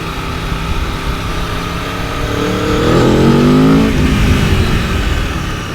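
An Italian sports touring motorcycle accelerating, its engine note climbing and swelling in a loud, close pull before easing off, heard alone without talk.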